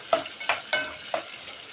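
Food frying in a pan produces a soft sizzle broken by four sharp scraping stirs in quick succession, close and without speech.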